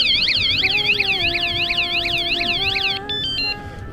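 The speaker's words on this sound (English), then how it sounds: "And then the second touch, alarm." Full anti-theft alarm on a delivery bicycle, triggered by a second touch, wails in a rapid repeating siren-like warble, loud and close, then cuts off near the end, leaving a few brief electronic chirps.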